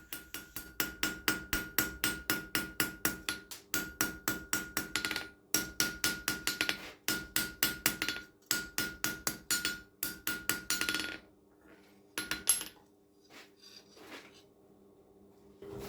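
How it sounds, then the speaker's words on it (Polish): Rapid, steady hammer blows ring out on metal, dozens of sharp clanks in quick rhythm as the handle edges of a forged knife are rounded off, then a pause with a few scattered taps. "musimy po prostu zaobić młotkiem te kanty"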